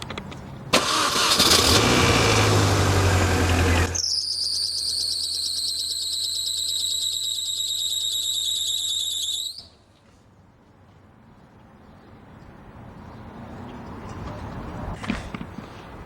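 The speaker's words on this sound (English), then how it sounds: "I'm gonna show you guys the squeal" Loud, continuous high-pitched squeal from the engine belt tensioner of a Mini Cooper, rising in pitch after the engine starts and holding steady for several seconds before cutting off, leaving a quieter idle.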